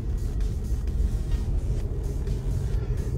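Tesla Model S P100D accelerating slowly up a highway on-ramp at around 40 mph, heard from inside as a steady low road rumble and tyre noise, continuous and moderately loud with no talking.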